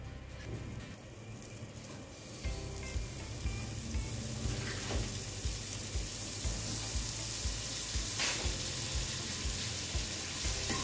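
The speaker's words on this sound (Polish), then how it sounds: "Cały czas mieszamy, aby bułka nam się nie przypaliła. Na średnim ogniu." Breadcrumbs with sugar frying in a pan over medium heat, a constant close sizzle broken by the scrape and clatter of steady stirring.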